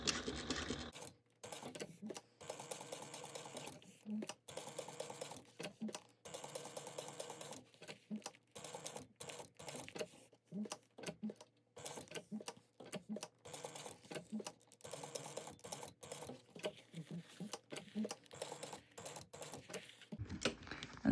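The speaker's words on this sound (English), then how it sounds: "you're just going to back stitch at the beginning end and sew around at 1/8 inch" A sewing machine stitches through layered fabric of a parrot-themed bag, sewing around at a narrow 1/8 inch seam with a back stitch at each end. It runs in close, rapid, loud bursts, broken by brief pauses.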